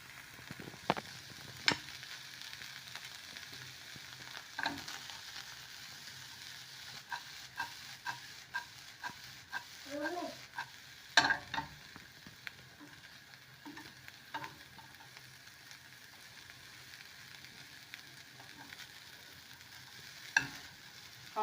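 Dried omena, silver cyprinid, fries in a pan with a faint steady sizzle while a utensil stirs and scrapes the bottom in sparse, irregular taps and clinks.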